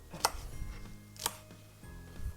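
Large pieces of red and yellow bell pepper being chopped on a board for a radish pickle, with two sharp knife strikes about a second apart and a softer thud near the end, close and alone.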